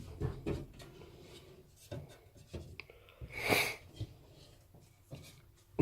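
Kitchen drawers in a Hobby 720 kWFU Prestige caravan being handled, with scattered soft knocks and sliding thuds, plus a brief louder rattle near the middle, all fairly close and quiet.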